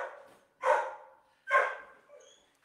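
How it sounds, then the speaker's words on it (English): Dogs barking indoors at home: two loud, separate barks with a trailing whine or whimper between and after them, fairly close, no talking. "Gotta love the dogs."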